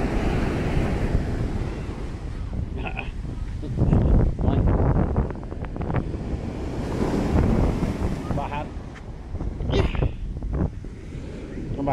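Ocean surf rolls onto a beach beside a pier, with gusty wind buffeting the microphone throughout and swelling in a few louder bursts; distant voices occasionally come through.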